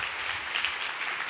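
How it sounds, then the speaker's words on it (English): Audience applause at a conference talk, a steady dense wash of clapping from a crowd, moderately loud and continuous with no speech over it. "Give yourselves a round of applause"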